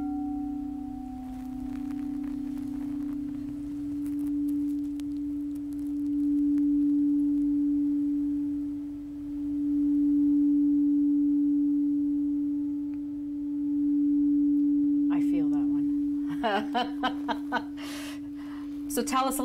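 A sacral singing bowl used in a sound therapy session hums a steady, sustained pure tone that swells and fades slightly, ending with a burst of clattering noise.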